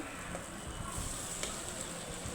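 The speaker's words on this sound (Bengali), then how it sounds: "আমি পেঁপেটা এখানে দিয়ে দিলাম, এখন এটাকে ভালো করে নাড়াই নিব, কারণ তেলে ফেলতেছি" Boiled papaya with shrimp fries in oil, giving a soft, steady sizzle with faint stirring noises, fairly quiet and close.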